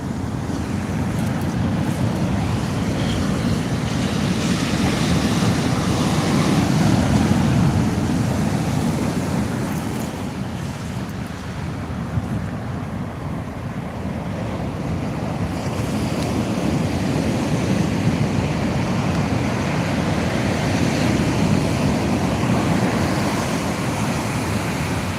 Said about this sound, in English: That's a lovely sound. You see, look how big the waves are.